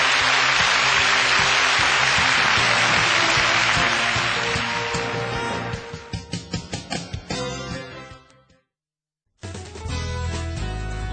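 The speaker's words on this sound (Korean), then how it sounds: "힘찬 박수를 부탁드리겠습니다" A studio audience at a televised Korean CEO lecture breaks into loud, dense applause that thins to scattered, separate claps, stops into silence, then gives way to other sound.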